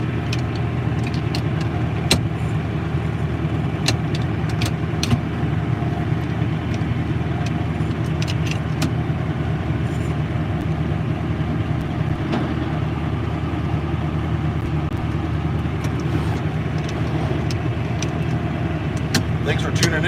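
A John Deere 8850 V8 tractor driving along, its engine a steady low rumble that holds constant throughout, with scattered clicks and rattles over it.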